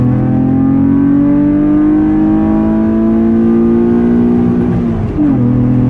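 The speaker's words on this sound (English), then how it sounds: "I really have to step on it hard. So let's check the car again. RPM 4000." Mitsubishi 3000GT VR4 engine held at about 4000 RPM, a loud, steady close-up drone with rich harmonics that dips and recovers briefly near the end, no talking.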